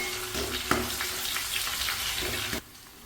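Three or four dried red chilies hitting hot oil in a pan for a Kerala ozhichu curry, a loud, steady, close hiss and sizzle with a few sharp pops, which cuts off abruptly near the end.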